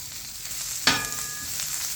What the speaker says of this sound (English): First thing I want to do is start caramelizing some onions